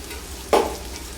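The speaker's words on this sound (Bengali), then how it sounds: "পোস্ত দিয়ে কিছুক্ষণ ভাজা ভাজা করব।" Ground poppy seed paste with green chilli hits a hot pan for a potato and drumstick flower dish, giving one brief, loud sizzling burst over a low, steady frying hiss without voices.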